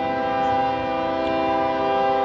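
Train going by overhead near the Alabama River in Montgomery, a loud, steady horn tone with layered harmonics held over a low rumbling roar, constant throughout with no voices.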